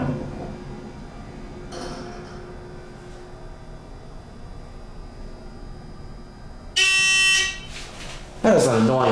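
A ThyssenDover hydraulic elevator with a manual side door sounds a loud, harsh buzzer in one short burst near the end, followed by another noisy burst, over the low hum of the car interior.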